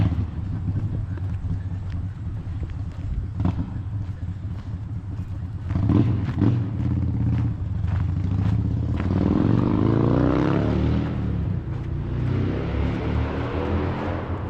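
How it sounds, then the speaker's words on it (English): Loud motorcycle passing on a road beside a woodland walk in Maine in fall, its engine rumble swelling and rising in pitch toward the middle and then fading, over steady wind and footsteps. "Loud motorcycles, my favorite friend while I'm trying to talk."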